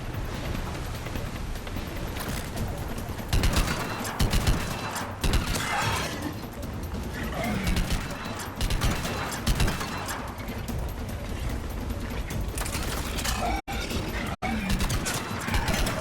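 Enemy gunfire and combat noise from Mass Effect 3 run dense and loud throughout, with repeated crashing hits and mechanical clatter.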